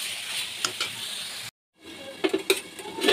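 Curry is stir-fried in a pan with a spatula, scraping over a soft sizzle, then a short full dropout, then a run of sharper clatters and scrapes.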